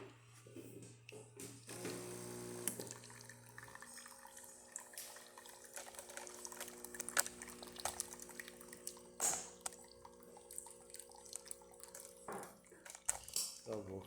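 A Breville Barista Touch espresso machine dispenses hot water in a quiet room with a faint steady hum and gurgle. Soft clinks and drips come and go, with brief low speech near the start.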